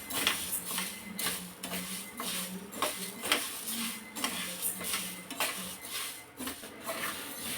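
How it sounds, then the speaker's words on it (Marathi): Mung beans dry-roasted in a pan, a quiet run of rhythmic scraping and rattling as a spatula stirs the beans against the metal, repeated strokes close by with no talk. "अगदी दोन मिनटच आपण हे मूग भाजून घेणार आहोत"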